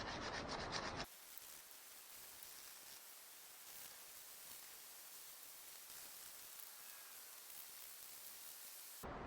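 Soft, steady rubbing and scratching of 220 grit sandpaper on bare metal, a continuous fine hiss without talk, louder bursts at the very start and end.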